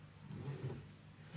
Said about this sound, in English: Sorry about the noise outside. It's Saturday, so everyone's driving past my house.